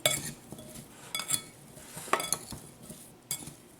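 Vegetables tossed with a couple tablespoons of brown sugar in a bowl, giving light clinks and scraping rustles in short irregular bursts, close and fairly quiet with no talking.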